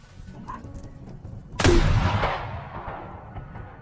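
A single sharp gunshot in a Korean film cracks out loudly and then trails into a long, fading echoing tail after a quiet, murmuring lead-in.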